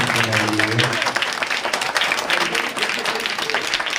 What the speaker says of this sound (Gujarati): ચલો તાળી વગાડો બધા.